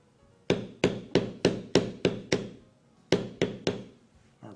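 Eight sharp mallet blows strike a stamping tool into carved leather in a steady rhythm, then a short pause before three more; each hit is close, loud and crisp with a quick decay, and no one speaks.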